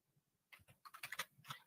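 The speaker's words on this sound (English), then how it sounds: "I'm still typing." Quiet, close typing on a computer keyboard: a short burst of clustered key clicks after a near-silent start, irregular in rhythm and soft overall.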